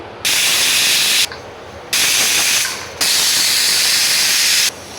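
A kitchen pressure cooker, boiling potatoes for parathas, lets off loud, close bursts of hissing steam from its whistle. There are three long blasts separated by brief quieter gaps.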